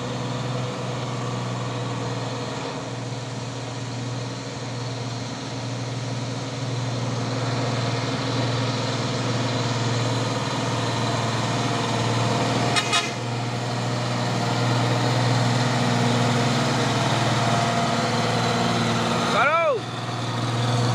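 A 4x2 single-axle palm oil truck's diesel engine drones steadily and loudly on a hill road, with a constant low rumble, a short honk near the middle and another horn blast near the end.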